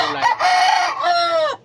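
A rooster crows loudly and close in two long drawn-out calls, with chicken clucking around them, among colour-bred chickens in a backyard breeding flock.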